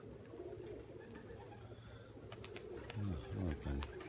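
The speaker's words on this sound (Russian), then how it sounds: "Это хомутшейка голубочка." Pigeons in a rooftop dovecote during winter, a young squeaker among them, give a few low throaty coos near the end, with a soft bird call or two over quiet background murmur.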